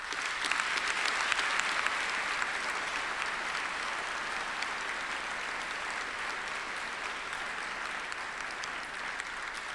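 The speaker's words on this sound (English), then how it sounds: "But I'd ask you now to take this opportunity to show them your appreciation by a round of applause." Sustained applause from a graduation ceremony audience at Monash University, a dense, even wash of many hands clapping steadily throughout at moderate level, with no talk over it.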